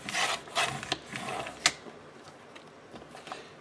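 Printable paper planner inserts for a traveler's notebook being trimmed on a cutter, with several quick scraping slices early on and a sharp snap, then fainter light rustles, close and quiet.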